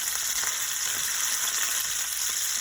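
Red snapper sizzles in oil in a pot on a stove top, a steady, bright crackling hiss that stays close and even throughout, with no voices.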